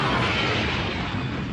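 Explosion at an airport in a 1990s anime, a loud sustained roaring blast with dense rumbling debris that fills the whole short moment without any pause.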